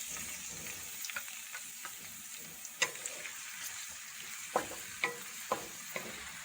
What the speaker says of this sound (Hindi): प्याज हमारा फ्राई हो गया है।